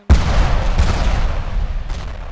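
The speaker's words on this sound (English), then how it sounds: "So he just blasted them with a machine gun" Ravenfield gunfire rings out as a loud, sharp burst that trails into a sustained clatter, with several more blasts cutting in at intervals.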